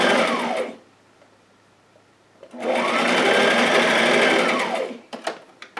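Sewing machine running a gathering stitch through dress fabric in two bursts: a fast, even mechanical whir close by, a short run, a pause, then a longer stretch, ending with a few light clicks.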